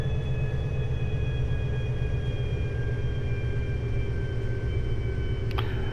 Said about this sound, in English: bus sounds like a rocket, doesn't it?